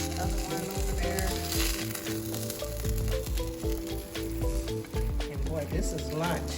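Salmon on the bone with its skin crisping sizzles loudly and steadily up close, while a voice talks over the frying.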